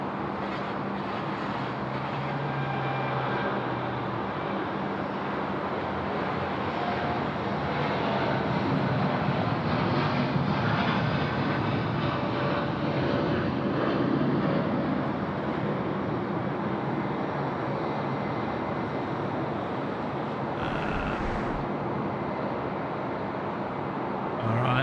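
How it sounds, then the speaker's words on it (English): Jetstar airliner at Sydney Airport at night, a steady, moderately distant jet engine roar that holds evenly across the whole stretch, with no talking. "So there goes the Jetstar aircraft and spinning around"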